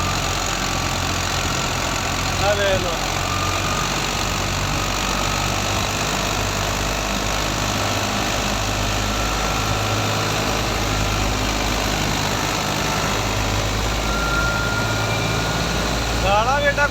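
A New Holland 480 tractor engine strains under heavy load while harvesting wet wheat, giving a loud, steady low drone throughout, with a brief voice over it.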